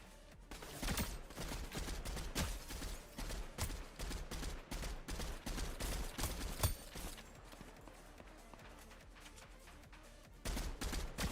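Rapid bursts of video game gunfire crackle and rattle in dense volleys, with sharp shots scattered throughout and a short lull near the end before firing resumes.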